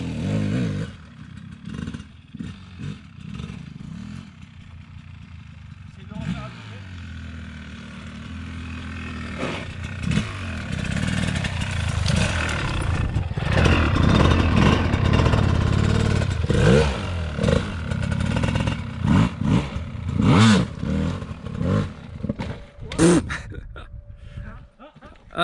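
A GasGas trial motorcycle engine revs and roars in repeated bursts, rising to loud sustained throttle in the middle before dropping back, with people talking over it.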